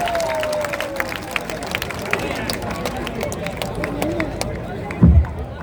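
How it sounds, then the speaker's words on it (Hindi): An audience applauds at a public gathering. Scattered claps rise and fall under someone talking over a PA, and a louder thump comes near the end. "तालियों की गड़गड़ाहट से इनका इस्तेमाल करें"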